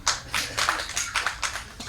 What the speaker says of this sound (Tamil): இப்படி ஒருத்தர் 2 பேர் கைதட்டுறீங்கல்ல,